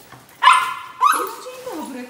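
A dog at home gives two sharp, close barks in quick succession, followed by a falling whiny yip as visitors arrive.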